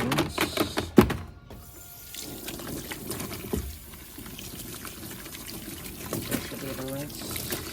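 Water running over a part of a Pacvac Glide 300 vacuum as it is rinsed, a light trickling and splashing that continues under frequent nearby talking, with a few brief clunks.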